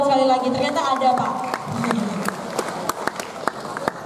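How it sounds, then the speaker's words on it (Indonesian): A voice speaks at first, then scattered hand claps ring out, sharp and uneven, continuing under a busy room murmur. "boleh tepuk tangan sekali lagi"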